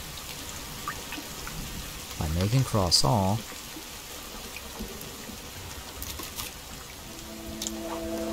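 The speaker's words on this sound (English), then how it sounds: "And it's raining." Steady rain hisses throughout in the survival video game The Forest, a constant even wash of droplets. A person speaks briefly partway through.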